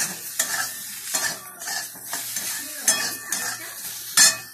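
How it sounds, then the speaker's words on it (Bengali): Fish with salt and turmeric being stirred in a hot pan, with repeated scraping strokes against the metal over a steady sizzle of frying oil, close and fairly loud, no voices. "একটু নাড়িয়ে নেব।"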